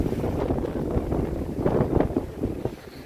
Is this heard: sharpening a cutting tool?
no